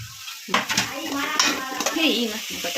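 Veg Manchurian is stirred in a frying pan with ginger garlic paste and cut cabbage, a sizzle running under repeated metallic scrapes of the spatula against the pan, close and steady, with a faint voice in the background.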